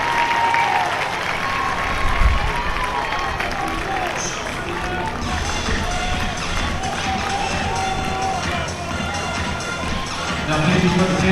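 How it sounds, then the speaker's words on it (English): A baseball crowd gives a loud, sustained round of applause and cheering as player Marcus Morales leaves the game, with a voice talking over the continuous roar throughout. "Marcus Morales will get a raucous round of applause and a lot of hugs and handshakes from his teammates"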